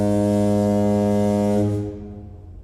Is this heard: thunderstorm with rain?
no